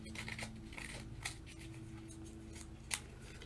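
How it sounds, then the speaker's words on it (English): Quiet, close scraping of scissors rubbed along an edge, several short irregular strokes over a low steady background hum. "rough up the edge a little bit with my scissors again."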